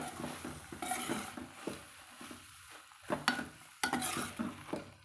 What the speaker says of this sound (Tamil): கலந்து விட்டுக்கலாங்க.